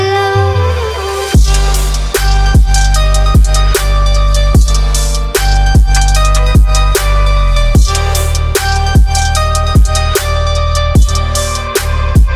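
The second half of a melodic trap drop plays loud and dense, with punchy kicks and snares hitting on a steady beat over deep sustained bass and bright layered synth chords, all instrumental with no vocals.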